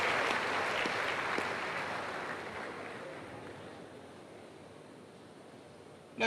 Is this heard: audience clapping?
yes